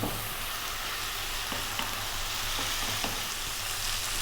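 Bacon sizzles and fries steadily in a pan while being stirred, a constant crackling hiss with occasional scraping clicks of the utensil throughout.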